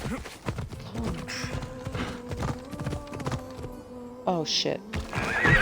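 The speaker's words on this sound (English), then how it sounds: "My horse just magically comes." Rhythmic hoofbeats clop steadily throughout in Assassin's Creed Odyssey, and a horse whinnies loudly near the end, with a short exclamation from a voice.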